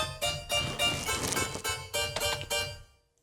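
A harpsichord plays a bright, plucked rhythmic figure of repeated chords in a short, clean phrase that stops abruptly, with no voices.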